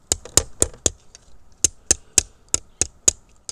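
Hammer striking a copper dart point fitted around a cane dart end, about a dozen sharp metallic taps in a steady rhythm with a short pause midway, close and clear without talk.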